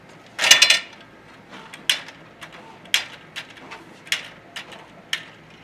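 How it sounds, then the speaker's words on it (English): A Canon multifunction printer runs a print job and stacks its output, giving a close string of sharp mechanical clacks and ratcheting clicks, a busy burst first and then single knocks about once a second. "Whilst that's printing, let's pull up the output stacker."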